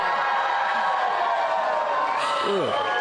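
Crowd noise at a stage event with lights and cameras, a dense hubbub of many voices cheering and calling out, fairly steady and close, with a rising whoop near the end.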